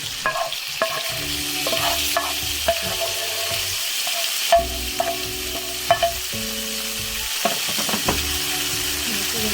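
Chicken tikka pieces cooking with spice masala in a pan, a continuous sizzle under repeated clinks and scrapes of a utensil against the pan, with a low steady hum in the background.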